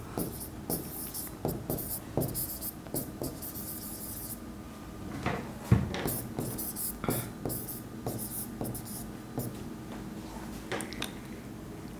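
A pen scratches out an accounting entry by hand, short bursts of writing strokes with taps and pauses in a quiet room, no talking.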